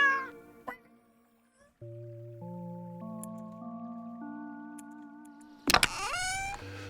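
Cartoonish cat meows in a farming life-sim video game, a few short tonal calls at the start and a brighter, louder meow near the end, set against steady synthesized game music.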